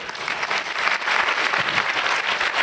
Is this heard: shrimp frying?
no